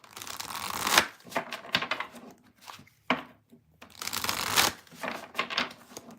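A deck of cards is shuffled repeatedly, crisp riffling bursts separated by short pauses and a few soft taps, close by.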